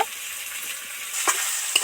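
Fig (dumur) vegetables deep frying in oil in a village kitchen, a steady soft sizzle with a couple of brief stirring scrapes near the end, close and fairly quiet.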